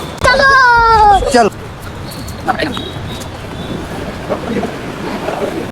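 Indoor crowd chatter in a busy two-wheeler showroom, with many overlapping voices, a brief high whistle-like sound near the start, then steady hubbub.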